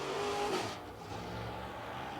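A super late model race car at Lancaster Motor Speedway roars past during qualifying, its engine note swelling briefly and then fading into a distant drone, with no voices in the clip.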